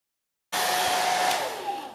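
A hair dryer switches on abruptly and blows at a steady, loud whir to dry a puppy after her first bath, with no talking.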